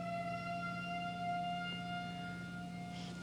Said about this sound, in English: Siren. Siren. It's Wednesday of the month. Every first Wednesday they do a test.